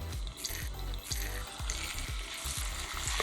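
Abalone pieces sizzle in hot cooking oil in a pan over medium heat, a steady close frying hiss with a regular series of soft thumps as the pieces are moved.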